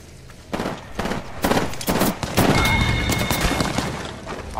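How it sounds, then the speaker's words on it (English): Gunfire in the battle royale game Apex Legends, several sharp rapid bursts of shots that give way to a dense, sustained barrage with booming impacts, loud and close. "I am taking fire."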